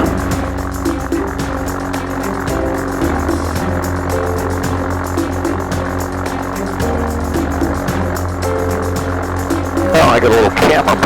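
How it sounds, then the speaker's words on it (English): A GT 500 tow plane's engine warming up on the ground, a loud, steady propeller drone with a constant hum that swells slightly near the end, close and continuous. "Warming up on the engine."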